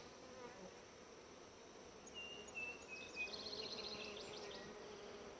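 Bees and other winged insects swarm shining sumac flowers in bloom, making a steady, faint hum that carries on without a break, with a few high chirps over it.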